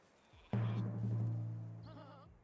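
A sheep bleats in the Northgard strategy game: one loud, sustained, wavering bleat of about two seconds that begins suddenly and slowly fades, with no voices over it.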